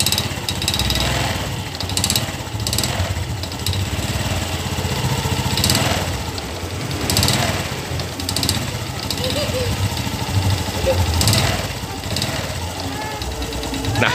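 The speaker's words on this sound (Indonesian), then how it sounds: "motor ini yang bunyi itu adalah piston" A Honda Revo Fit motorcycle engine idles close by with a rough, uneven knocking rhythm from a loose piston, and a voice talks intermittently over it.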